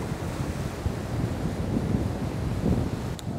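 Waves surge in off the bay onto a rocky beach at Frank Murphy Park while the lake level is high. The wash is steady and rumbling, with strong wind buffeting the microphone throughout.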